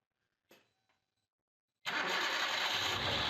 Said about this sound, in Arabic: الآن سأحاول تشغيل السيارة للتأكد قبل إرجاع القطع إلى مكانها